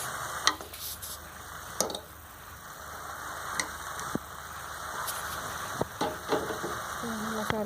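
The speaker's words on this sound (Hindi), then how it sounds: "मसाले की भुनाई कर रहे हैं" Spiced mashed potato for aloo bharta frying in a pan, a steady soft sizzle with scattered ticks and scrapes of stirring, close and fairly quiet, no talking.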